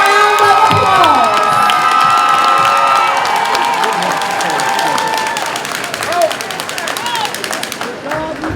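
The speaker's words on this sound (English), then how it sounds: "Let's give a round of applause." A graduation audience for a 50th-year high school class reunion cheers and claps loudly, a dense crowd roar with whoops and shouts sustained throughout.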